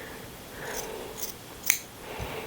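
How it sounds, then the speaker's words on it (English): Scissors clip and trim a fabric seam allowance near a stitching line, making a few soft snips close by with one sharper cut standing out. "I'm going to come in, clip it up to almost 1/8 of an inch from that stitching line, and trim out this seam allowance this way"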